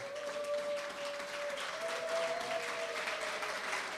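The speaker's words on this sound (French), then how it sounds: "Est-ce qu'on peut acclamer pour la parole de Dieu?" A church congregation applauding together at a French-language service, steady broad clapping throughout with a sustained tone running underneath.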